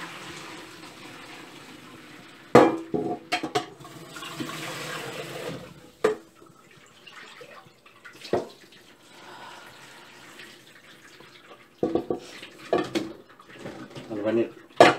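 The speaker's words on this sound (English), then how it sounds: "After straining, we'll pour the cold water." Cold running water pours and splashes in a sink as noodles are strained, with metal pots clanking at intervals and a voice speaking briefly between the sounds.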